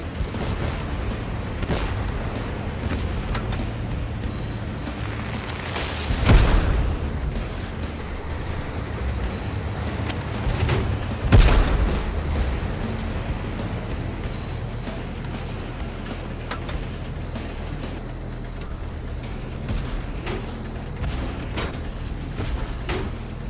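Artillery bombardment in the Tank Force video game: a constant low rumbling battle din with two heavier distant booms standing out.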